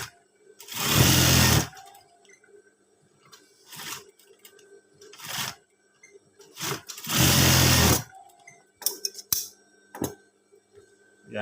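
A sewing machine topstitching a scout uniform runs in two loud bursts of rapid stitching, each lasting about a second, separated by quiet handling clicks and shuffles.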